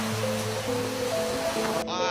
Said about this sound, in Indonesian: Ombak besar, angin barat.